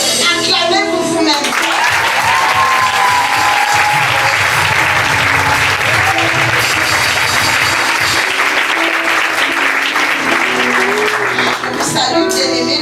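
A church seminar congregation applauds loudly and steadily, with dense sustained clapping and cheering that fills the space for over ten seconds, with a few voices calling out at the start and end.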